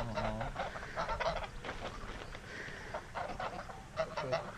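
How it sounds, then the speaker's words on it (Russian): Large farmyard geese honk repeatedly and loudly at close range, overlapping calls in irregular bursts throughout. "Вот такие они уже гуси-гиганты."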